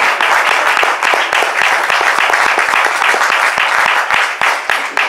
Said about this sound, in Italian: vorrei chiedere un grande applauso al nostro pianista Mauro